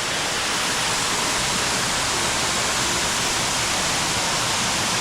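Rocky Creek Falls, a large waterfall on a creek near Sherwood, NSW, roars as a steady, dense wash of falling water, close and loud throughout with no breaks and no voices.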